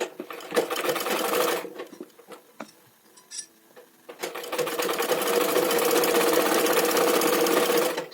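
Sewing machine stitching a blouse lining, its rapid mechanical whir running in two bursts with a quiet pause between, where small clicks and fabric handling are heard.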